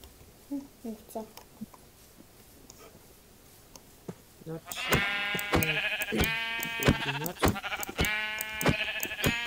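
Video game sheep bleats repeat in a lively flurry over talk in the background, growing louder and denser halfway through.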